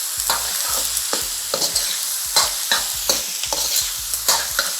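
Egg fried rice with a teaspoon of soy sauce being stirred in a hot pan, rhythmic spatula scrapes and taps over a continuous close sizzle, no voices.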